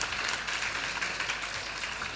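Audience applause for a panel discussion, a dense steady wash of clapping that holds at an even level for the whole stretch, with no voices over it.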